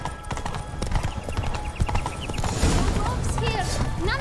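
A horse's hooves clip-clop at a quick, rhythmic pace in The Witcher 3: Blood and Wine, close and clear, with a brief whinny and a character's voice speaking over the hoofbeats.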